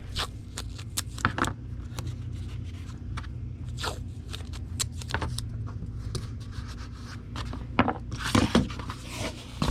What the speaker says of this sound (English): So we'll put that one in the Gemini mailer. Go ahead and tape it down.